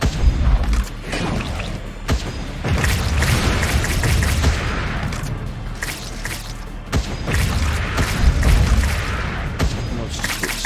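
Weapon turrets fire in Wall World in loud, rapid volleys of bursts and booms. Sharp impacts punctuate the barrage, which stays near and dense the whole time with no talk.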